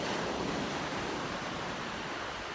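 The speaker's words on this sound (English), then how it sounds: "my shoes and the water gently lapping up to them" Water laps gently at a shore around a pair of shoes on a morning walk, a steady close, broadband wash of surf with some wind noise and no pauses.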